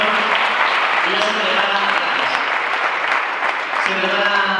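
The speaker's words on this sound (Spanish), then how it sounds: "Fuerte aplauso." A Maker Faire audience applauds after a project pitch, a steady dense clapping from a crowd, close and loud throughout, with voices faintly underneath.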